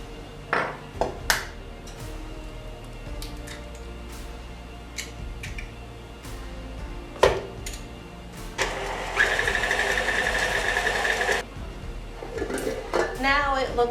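Electric mixer beating blueberry crumb cake batter after vanilla and an egg go in, a whirring motor burst in the middle amid clinks of bowls and utensils, with talking over it.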